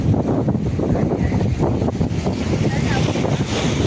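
Strong coastal wind buffets the microphone in a constant loud roar in Naoussa, Paros, Greece, with water sounds and faint voices mixed in.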